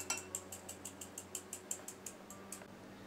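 Plain flour and cocoa powder sieved for eggless brownies, a regular series of light metallic taps from the sieve, about a dozen evenly spaced, close and quiet.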